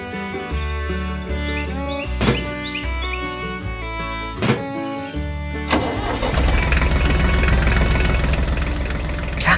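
A green tractor pulling a trailer in a farm orchard with apple trees: bright tonal notes with sharp hits come first, then the engine churns into a rough, steady running rumble.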